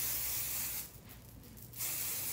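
Short hissing bursts of aerosol hairspray, fairly faint, with a brief pause in the middle.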